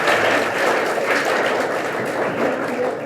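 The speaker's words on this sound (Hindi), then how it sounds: "सभी लोग तालियां बजाएं मैम के लिए" Audience applause at a Varanasi Police cyber crime awareness program, a dense, continuous wash of many people clapping, fairly loud and sustained without pause.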